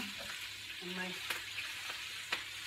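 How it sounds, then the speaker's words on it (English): Steady hissing sizzle of wet kale frying in hot oil for kale crisps, with a few soft clicks and stirring sounds, heard up close. "all of my chips will go onto this hot oil. Can you hear it sizzling?"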